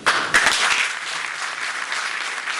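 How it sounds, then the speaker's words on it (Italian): Audience applause at a sports event, loud dense clapping from a crowd that starts abruptly with a few sharp claps, then settles into a steady wash. "Applauso"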